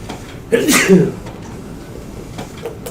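A single sharp sneeze bursts out near the microphone, followed by quiet room noise.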